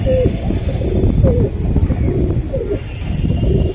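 Giribaz pigeons, a male and a female, cooing close by in repeated throaty phrases over a busy background of other birds.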